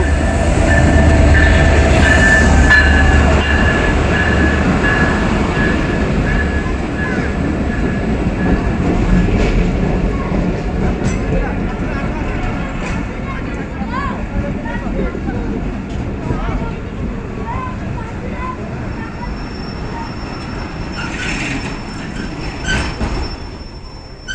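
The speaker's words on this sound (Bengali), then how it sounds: "66-12 লোক নিয়ে বাংলাবান্ধা এক্সপ্রেস চিরবন্দর" Banglabandha Express passenger train pulling into Chirirbandar station, a loud rumble of wheels with clattering and metallic squeal as coaches roll past, voices nearby on the platform throughout.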